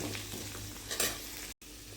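Vegetables for a vegetable kurma sizzle and crackle in a hot pan with spice powder while a utensil stirs them, a soft continuous frying hiss with a brief scrape.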